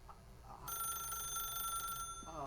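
A telephone rings inside the video game The Stanley Parable, a bright electronic trilling tone that starts abruptly and holds steadily for over a second against a quiet background hum.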